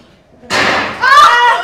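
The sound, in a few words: gunshot in a film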